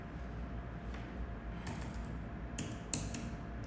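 Typing on a computer keyboard, quiet scattered key clicks with a few sharper taps near the end over a low steady hum, no talk.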